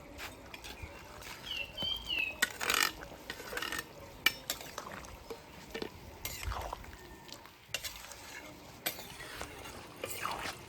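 Fried paneer cubes tipped into a simmering potato and pointed gourd curry and stirred, giving scraping, clattering and wet stirring noises in irregular bursts close by, with no talk.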